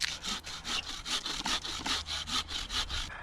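A handsaw cuts through wood at an overnight camp, with steady rhythmic back-and-forth strokes, about nine quick rasping passes, close and clear with no talking.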